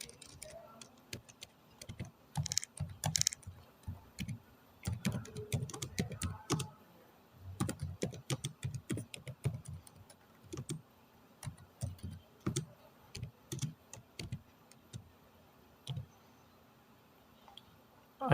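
Python code typed on a computer keyboard, rapid bursts of close key clicks and clatter broken by short pauses, continuing steadily throughout at moderate loudness with no talking.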